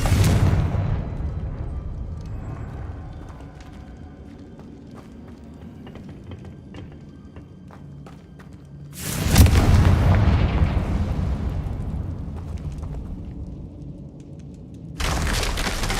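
A Confringo fire spell blasts in the Hogwarts Legacy video game: two loud, deep booming explosions, the first at the start and a second roaring burst midway that rumbles and fades, with a fresh blast at the very end.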